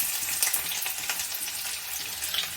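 Onion sautéing in hot oil for a taro curry gives a steady, bright crackling sizzle with small pops, close and continuous for a couple of seconds without any talk.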